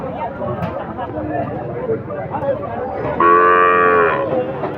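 A four-month-old Sahiwal bull calf moos loudly and clearly at a busy cattle market, one sustained call rising above the steady crowd babble and nearby talk.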